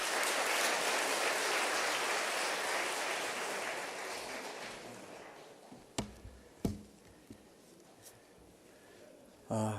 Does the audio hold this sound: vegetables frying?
no